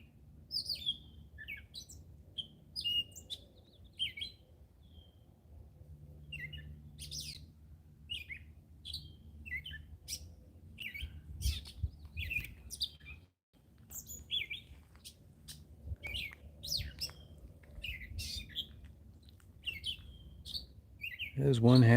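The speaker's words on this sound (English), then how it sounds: "There's one happy bird." A small bird perched on a branch outdoors sings and chirps in repeated short bursts of bright notes, moderately close over a low background rumble, with occasional quiet voices nearby.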